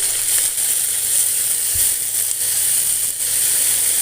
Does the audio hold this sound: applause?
no